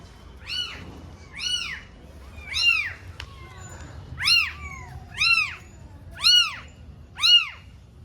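A mother cat meows repeatedly, about eight clear, drawn-out calls at roughly one-second intervals, close and fairly loud, as she searches for her kittens.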